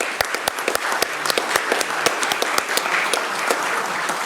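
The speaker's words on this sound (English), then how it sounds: "Let's give these young folks a round of applause." Applause for a group of young people at a joint city council and economic development meeting in Bastrop, Texas: a modest room of people clapping, with sharp individual claps standing out from a steady patter.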